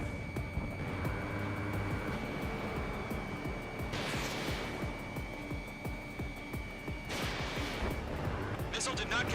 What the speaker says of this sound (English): Mage 1 launching missile.